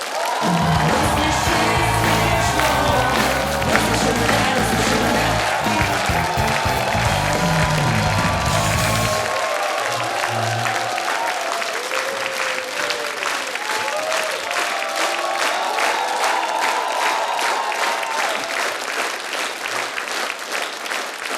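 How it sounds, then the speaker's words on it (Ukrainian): Sustained audience applause at a TV stand-up comedy show, dense and loud throughout, with music beneath the opening seconds and a few whoops rising from the crowd. "Ще раз оплески"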